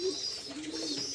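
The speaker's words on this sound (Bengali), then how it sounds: "এই যে কবুতরের খাবার খাইতেছে" A pigeon cooing softly while it eats, a close, low throaty coo lasting about a second, quiet and alone.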